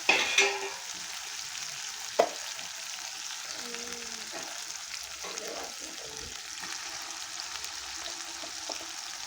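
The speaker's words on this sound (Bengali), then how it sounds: "মশলার উপরে আমি মাংসগুলো দিয়ে দিলাম।" Mutton pieces dropped onto cooked-down spice paste sizzle softly and steadily in the pan, with a few sharp clinks and scrapes of stirring near the start.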